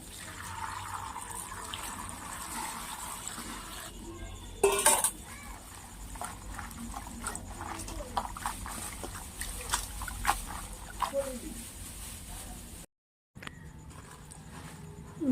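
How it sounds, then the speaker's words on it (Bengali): Taro (kharkol) leaves washed in water in a kitchen: running water and splashing with clinks of a pot or bowl, irregular sloshes and handling noises at moderate volume. "এবারে আমি পাতাগুলোকে ধুয়ে নেব।"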